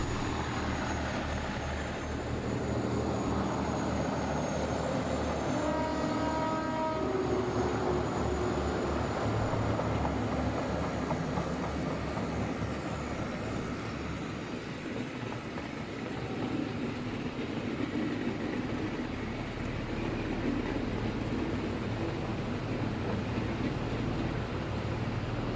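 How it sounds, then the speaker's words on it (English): Clayton Class 17 diesel locomotive D8568, preserved at the Ribble Cement Works, rumbles in action with a steady low diesel drone and a rising engine tone early on, heard at moderate distance, no talking. "Fortunately, one Clayton D8568 was preserved, having been sold to the Ribble Cement Works. She can still be seen in action today."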